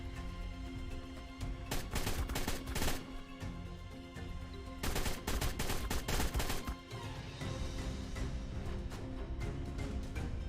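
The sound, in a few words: assault rifle gunfire in ARK video game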